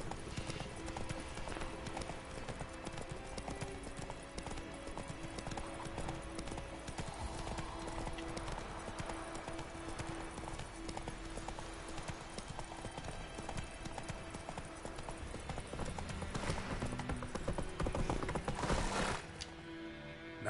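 Hooves of Roach, a horse in The Witcher 3 video game, clip-clopping in a steady walking rhythm at moderate volume, with a low game soundscape behind and a brief louder burst near the end.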